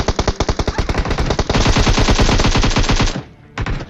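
Loud automatic gunfire from a video game firefight rattles in rapid bursts, a long continuous volley that cuts off briefly near the end before another burst starts.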